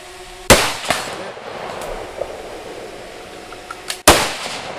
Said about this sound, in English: 2 shots on steel